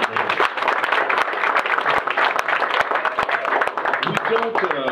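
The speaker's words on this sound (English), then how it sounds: "give Mr. Morgan a round of applause here" Crowd applause at a firearms store in Katy, Texas, welcoming a visiting television host, a steady wash of clapping heard alongside talk from people in the crowd.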